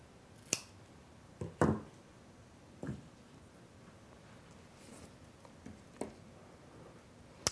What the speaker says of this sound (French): un petit coup de ciseau